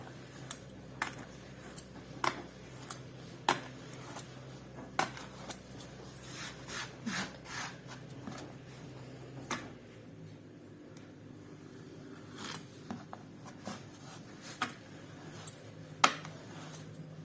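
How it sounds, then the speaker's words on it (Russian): A handheld noodle cutter chops rolled dough into small cubes for Tatar chak-chak, giving sparse, sharp clicks and taps against a board at irregular intervals with quiet handling between them. "Вот я начала резать уже тесто вот такими кубиками."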